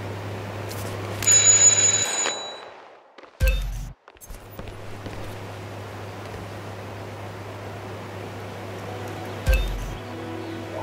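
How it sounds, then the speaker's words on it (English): A doorbell rings at a house in Whittleton Creek in the video game Hitman 2, a bright chime burst near the start followed by a sharp thump and a brief later clink over a low steady hum. "Just ring the doorbell."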